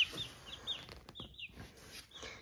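Three-day-old chicks in a box giving a few high, thin peeps, short chirps scattered over a quiet background, close and fairly soft.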